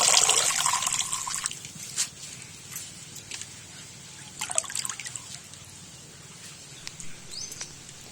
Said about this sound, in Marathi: ही मेथी आपण चांगली धुवून घेऊया पाण्याखाली